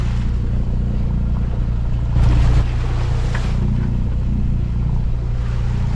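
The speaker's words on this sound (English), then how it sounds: "huge swells breaking over the reef." Choppy, confused water slaps and rushes around a sailboat off the coast of Tahiti while swells break over a nearby reef, with a loud constant wash and a brief surge partway through.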